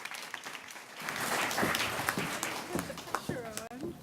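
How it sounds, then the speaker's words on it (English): Audience applause at a Montreal community forum rises after a quiet start and carries on steadily, with scattered voices and cheers mixed in near the end. "So please, let's give a round of applause for Sadia Rafikoudine."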